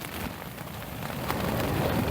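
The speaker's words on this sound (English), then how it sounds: "Rain's kicking in." Rain falling on a fishing shelter on a windy coast, a dense steady patter and hiss that grows slightly heavier, with no talking.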